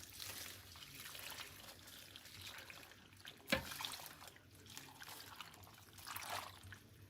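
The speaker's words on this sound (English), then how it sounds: "we also want to pour in 3 cups of beef broth" Beef broth is poured into a crockpot for beef stew, a soft, faint trickle of liquid running throughout with a brief louder splash midway.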